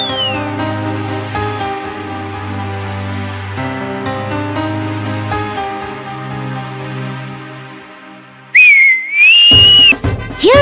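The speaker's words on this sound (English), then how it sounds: "Hearing his whistle," A bright, sliding whistle cuts in loudly near the end, rising and wavering over a steady musical backdrop.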